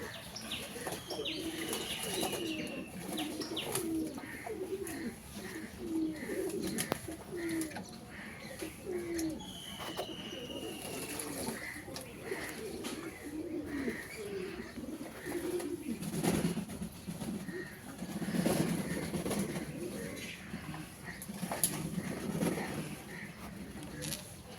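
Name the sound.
pigeons cooing while bathing in potash water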